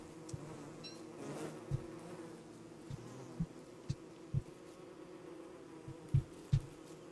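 Killer bees in the game Don't Starve Together buzz in a steady droning hum, with several sharp thumps and hits landing at irregular moments over it and no talking.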